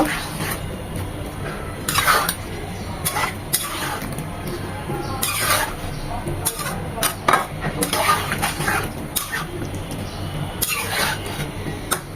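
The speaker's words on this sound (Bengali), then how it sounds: "সব কিছু মিশিয়ে নেব" Raw mango pickle ingredients with chili powder and mustard paste mixed together in a bowl, a spoon scraping and clinking against the dish in repeated strokes, close and moderately loud.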